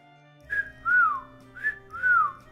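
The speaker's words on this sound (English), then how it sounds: "Oh my gosh, I can't whistle again." A person whistles a short tune: four clear, close notes in two pairs, each pair a brief rising chirp followed by a longer falling slide, alone against near silence.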